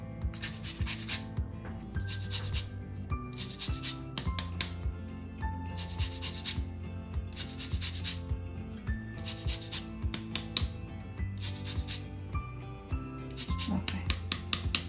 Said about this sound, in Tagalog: Pwede kayong gumamit ng lemon or orange zest.